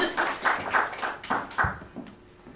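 An audience at a Korean book launch memorial event claps to welcome a speaker, producing a short burst of moderately loud, uneven applause that thins out toward the end.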